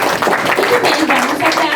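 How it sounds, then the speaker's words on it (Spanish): An audience at an event on the right to privacy of communications claps for a speaker being introduced, a short, close burst of clapping mixed with a few voices. "brindemos un fuerte aplauso"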